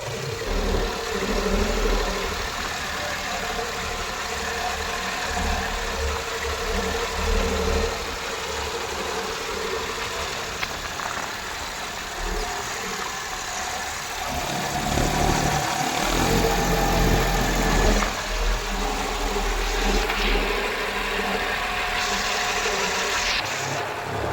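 A small tractor engine running on a farm, a steady rumbling idle with vibration that continues throughout and swells slightly in the middle.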